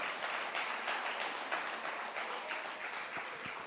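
Church congregation applauding during a sermon, a steady burst of clapping from a modest crowd that carries on without a break, moderately loud in a reverberant room.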